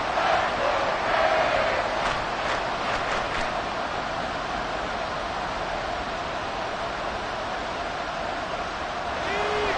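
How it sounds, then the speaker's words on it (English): Football stadium crowd roaring steadily as a continuous wash of broadband noise throughout, with a few brief whistle-like peaks rising out of it early on and no clear talking. "This crowd trying to force a false start here"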